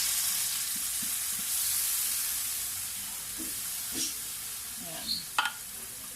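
Onions frying and being stirred in a pan for sardines, a steady close sizzle with occasional utensil scrapes and clinks near the end, a brief voice speaking.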